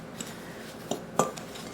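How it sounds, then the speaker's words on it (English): Fork mixing melted butter and sugar in a bowl for a cheesecake crust, a few light, sparse scrapes and clinks, quiet and close. "I'm just going to take a fork,"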